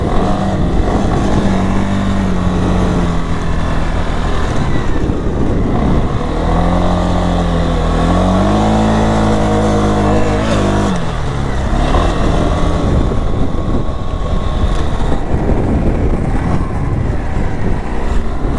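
The engine of a 2023 CFMOTO CFORCE 625 ATV drones close up throughout, its pitch climbing and falling as it revs repeatedly, loud and unbroken.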